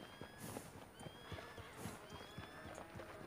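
In Red Dead Redemption 2, horse hooves clip-clop in a quick repeating rhythm while a horse whinnies, with faint voices in the background.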